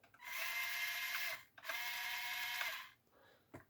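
Two small N20 gear motors in an RC Ford TW35 tractor with an intermittent fault whir in two steady bursts of about a second and a half each, with a short pause between them, close and fairly quiet, followed by a faint click.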